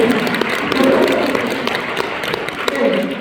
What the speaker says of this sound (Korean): 박수 한번 쳐볼까요?